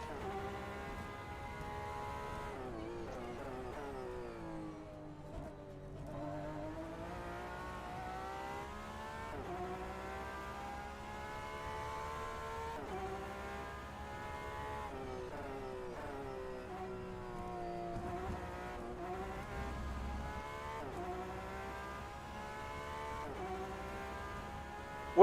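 A Porsche 991 RSR GTE race car engine in rFactor 2 howls through repeated upshifts and downshifts, with rising and falling revs across a lap at moderate, even loudness.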